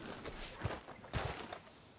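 A horse's hooves clop a few slow, uneven steps outside a sheriff's office in a video game, moderately close over a soft ambient bed, with no talking.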